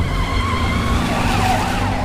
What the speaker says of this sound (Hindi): ये तो एकदम असली पुलिस सायरन लग रहा है।